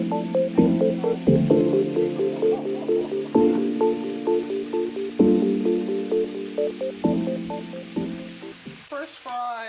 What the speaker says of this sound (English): First fry on medium heat, just to get the fries cooked through.